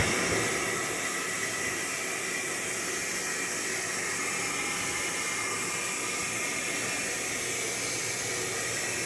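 Steady rushing water fills a Kenmore top-load washing machine drum, a constant broadband hiss with a faint low churning underneath, close and uninterrupted.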